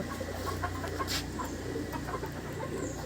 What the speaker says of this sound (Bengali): আর এই হচ্ছে মাদি পায়রা এই হচ্ছে নর